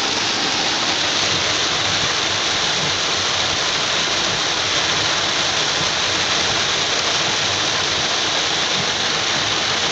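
Steady heavy rain falling outdoors at the start of the autumn rains, a dense, loud, unbroken hiss with no talk over it.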